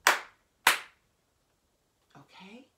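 Two sharp flamenco-style hand claps in a practice session, close and crisp, followed after a pause by a brief, faint voice.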